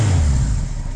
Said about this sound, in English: It runs amazing. Engine's super quiet.